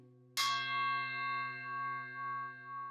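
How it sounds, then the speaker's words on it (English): A Himalayan singing bowl is struck with the wooden end of a mallet, giving one sharp, piercing strike that rings on in a long, steady, shimmering tone with a slow beating pulse, close and alone. "you don't really want to be hitting the bowl with that wooden end. It's very piercing sound."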